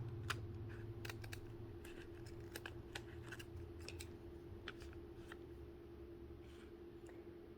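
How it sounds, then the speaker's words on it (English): Scissors snip through fabric backed with Heat N Bond, a series of faint, crisp cuts at an irregular pace over a low steady background hum, with no talking. "I'm going to keep cutting until I almost have it like right up against that edge."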